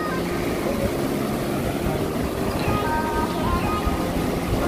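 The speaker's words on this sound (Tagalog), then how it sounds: "Lakas talaga ng alon," Strong ocean waves surging and crashing nearby in a steady, loud broadband roar that fills the whole stretch without pause.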